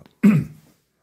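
A single short, close cough from a person on a beach, one harsh burst that fades quickly into silence.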